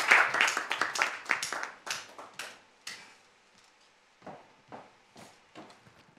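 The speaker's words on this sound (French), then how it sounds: "Public, on peut les applaudir déjà" Scattered studio audience clapping, a burst of quick claps that thins out into a few sparse, isolated claps, fairly quiet and fading toward the end.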